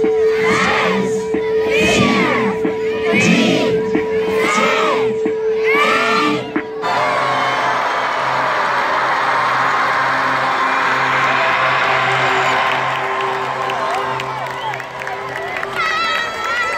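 Crowd cheering as Christmas tree lights switch on at the end of a light parade, a loud swell of shouting and whooping voices with children's screams, starting after a speaking voice and sustained near and energetic.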